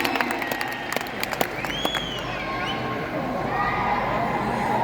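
An audience at a stage show applauds after a sung performance, a burst of clapping and scattered cheers that thins into a softer crowd murmur.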